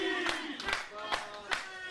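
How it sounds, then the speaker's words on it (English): A lively crowd at an independent wrestling show chants in rhythmic, repeated bursts with clapping mixed in, heard slightly in the background beneath steady, close commentary talk. "I hope this chant that the good people of March are chanting gets picked up on the microphones here"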